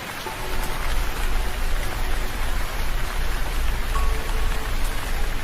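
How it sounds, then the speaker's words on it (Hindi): Steady, dense rain falls in a cartoon scene, a continuous even hiss of drops on surfaces that is loud and close throughout, with no other sounds above it. "ऐसा तो माँ कल भी लग रहा था, लेकिन कल भी कितनी बारिश हुई, आज भी हो रही है।"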